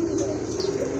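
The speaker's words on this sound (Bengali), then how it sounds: "মাশাআল্লাহ, আরেক জোড়া কবুতর" Pigeons coo in a low, steady warble that runs unbroken through the moment; they are Hungarian Budapest red neck and Rajgolla birds kept for sale, heard close and moderately loud with no talk over them.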